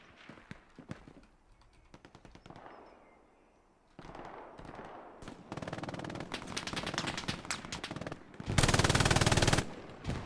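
Gunfire in Hell Let Loose, a World War II shooter: sharp rifle shots and bursts of machine-gun fire, some distant and sparse, then heavier sustained automatic bursts building to a loud, dense fusillade near the end.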